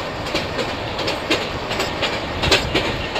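Janmabhoomi Superfast Express 12805 runs at about 110 km/h, with a steady rushing rumble and rhythmic clickety-clack of wheels over rail joints heard from on board, loud and continuous.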